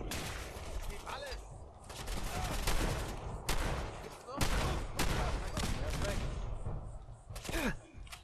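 Heavy gunfire in a large Fallout 4 battle: dense bursts of rifle and automatic fire crackle continuously, with sharp loud shots at intervals and several brief pauses between volleys.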